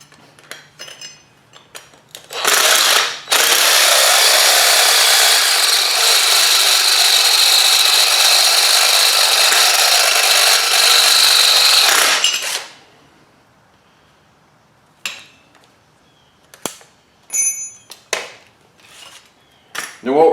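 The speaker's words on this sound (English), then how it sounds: "we're going to drill that down a little bit deeper, and then we're going to switch to a 1/2 inch bit" A power drill bores out a rivet, whining loud and steady for about ten seconds before stopping, framed by scattered clinks and knocks of tools and metal handling.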